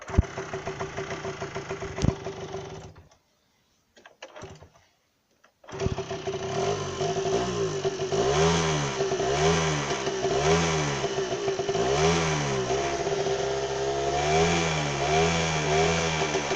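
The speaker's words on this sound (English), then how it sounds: "let's just try starting it on the kick" A Tomos AT 50 motorcycle engine is kick-started, with a couple of sputtering attempts and a brief gap before it catches and runs steadily, revving up and down in repeated swells, loud and close with no talking.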